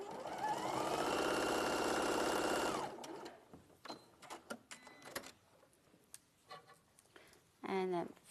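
A sewing machine stitching fabric runs in one steady, buzzing burst for nearly three seconds, close and fairly loud, then stops, leaving faint handling clicks and rustles with a brief voice near the end.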